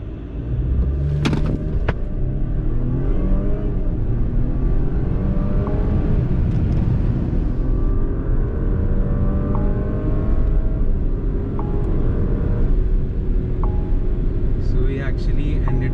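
A Porsche Cayenne under full throttle with traction control off pulls hard from a standstill, its engine rising in pitch through several gear changes as a loud, continuous interior roar with faint talk.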